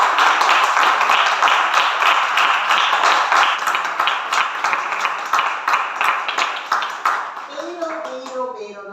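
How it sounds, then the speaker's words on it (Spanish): A crowd gives a loud, sustained round of applause for a man, a dense steady clatter of many hands that thins out near the end as a voice begins speaking. "creo que se merece un aplauso muy fuerte este señor"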